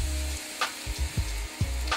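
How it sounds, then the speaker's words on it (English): Food sears in a hot pan with a soft, steady sizzle, broken by a few low thumps and handling knocks, fairly quiet and close, with no talking. "Listen to it. Listen to it sear."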